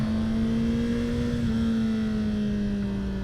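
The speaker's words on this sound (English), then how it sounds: "That engine braking on 3 is what I am here for" A 2021 Honda CBR 1000 RR motorcycle engine brakes in third gear, a steady droning engine note that slowly falls in pitch, heard close and continuous with wind noise.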